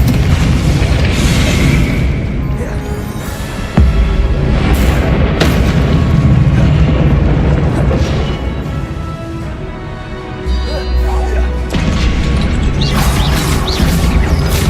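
Bombarda spell explosions in the video game Hogwarts Legacy, heavy booms and smashing crashes repeating loudly over a continuous bed of game combat noise.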